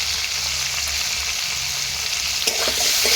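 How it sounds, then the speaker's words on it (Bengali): Cut cauliflower frying with salt and turmeric in oil left from frying potatoes, a loud, continuous sizzle close by with a sharp burst of spatter near the end, no speech. "আলু ভাজা তেলের মধ্যে আমি কেটে রাখা ফুলকপিগুলোও দিয়ে দিলাম।"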